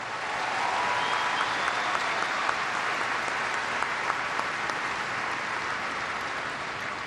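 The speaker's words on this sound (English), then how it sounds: "Another round of applause for Grigor Dimitrov." A dense crowd at the 2017 Brisbane International tennis final applauds champion Grigor Dimitrov, producing a continuous, loud, even roar of clapping that holds steady from start to finish.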